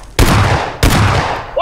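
Two loud, close shotgun blasts in the battle royale video game PUBG, each a sharp crack with a short decaying boom, about two-thirds of a second apart, followed by a brief metallic click.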